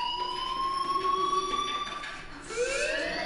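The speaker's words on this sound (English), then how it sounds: "Hey, do you hear that fire alarm?" Fire alarm blaring in the video game Life is Strange, a steady loud electronic siren tone that slowly shifts pitch and then sweeps upward near the end, continuous and with no voices over it.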